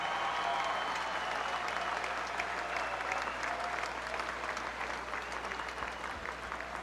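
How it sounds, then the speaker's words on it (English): An audience applauds steadily at a pro wrestling hall of fame induction ceremony in Knoxville, a dense, sustained clapping that stays loud throughout and tapers slightly toward the end. "Please, a round of applause for those people."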